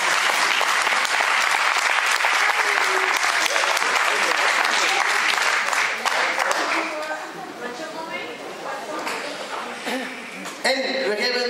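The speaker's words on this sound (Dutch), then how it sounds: "onder een heel luid applaus" Loud, dense applause greets a Christmas single's lyricist as he comes on stage, sustained for several seconds before thinning out, with a few voices and some laughter emerging as the clapping fades.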